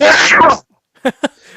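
A person sneezes twice in quick succession, two short sharp bursts close to the microphone, following a moment of loud speech that cuts off before a brief silence.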